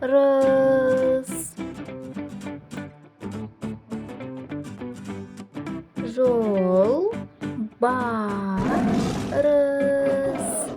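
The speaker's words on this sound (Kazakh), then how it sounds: "Жолбарыс, жолбарыс" A tiger roar bursts out loudly near the end, rough and broad, set amid a child-oriented recording with sung or spoken voices running throughout.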